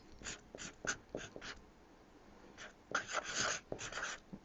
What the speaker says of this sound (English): I think we'll just write highway